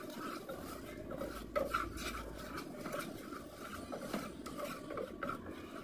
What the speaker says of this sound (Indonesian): Aduk sampai rata.